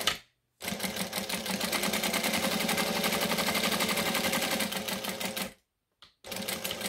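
A sewing machine stitches a long line, its rapid even needle chatter running steadily for about five seconds between short silences, with a brief restart at the end.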